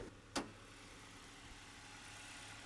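A Ford Ranger work truck's 2.3-liter four-cylinder engine idles steadily with a slight tick, a low, even hum heard up close after a brief click at the start.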